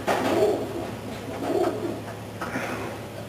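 Racing pigeons of Janssen stock coo softly and repeatedly at close range, the low throaty calls rising and falling in steady rounds with no talking.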